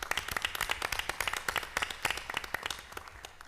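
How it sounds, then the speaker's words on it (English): Audience applause for a women's cross country team at a community gathering: scattered, uneven handclaps of moderate loudness, a smallish crowd clapping steadily for a few seconds. "Can we give them a round of applause?"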